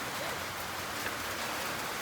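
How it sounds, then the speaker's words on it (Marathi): Rain falls during a sunshower, making a steady, even hiss of drops with no other distinct sounds. "अरे हे काय ऊन पाऊस."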